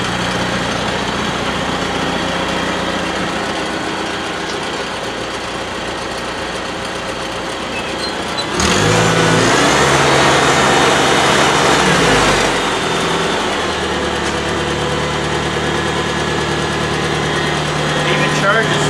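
A 1950 International Harvester Farmall Cub tractor engine idles in a garage with a steady, close, rattling putter. Midway it rises briefly to a louder, rougher burst before settling back to an even idle.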